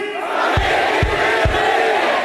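Large rally crowd shouting a unison Tagalog slogan, a loud sustained roar of many voices with three sharp rhythmic accents, filling the whole moment.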